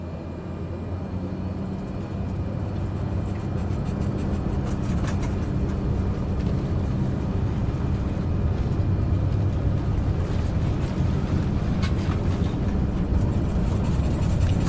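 A Cessna 208 B turboprop rolls down the runway for takeoff in Microsoft Flight Simulator 2020, a steady, dense engine roar and rumble that swells slightly and holds, with no voices.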